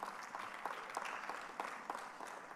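Faint, distant applause from an audience in a conference room at an African plant breeding conference, with a steady patter of many hands and no speech.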